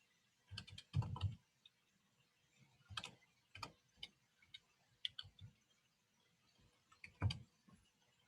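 Light, scattered keystrokes on a computer keyboard tap out a chat message, coming in short irregular bursts with pauses between them, close and fairly quiet.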